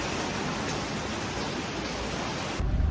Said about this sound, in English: Absolutely pouring down with rain.